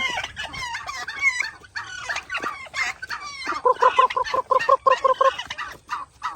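Loud, close turkey calls, a run of rapid gobbling and clucking notes with short pauses between bursts.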